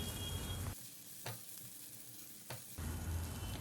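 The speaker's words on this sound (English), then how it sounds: "into this goes the onion juliennes. We'll stir them for a few seconds." Julienned onion and garlic sauté in a pan, a faint steady sizzle that dips briefly in the middle, with two quick stirring scrapes and no voices.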